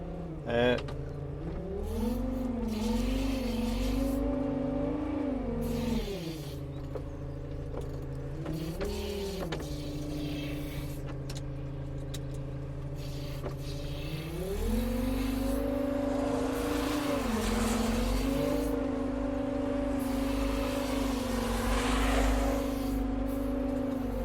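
The engine of a four-wheel-steer, crab-steer farm vehicle drones steadily, its pitch rising and falling as the revs change, with people talking over it throughout.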